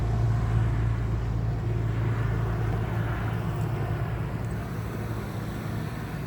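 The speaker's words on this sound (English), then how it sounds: "wow, there's a lot of traffic today." Road traffic, a continuous low rumble of passing vehicles that holds steady and loud throughout, with no talk.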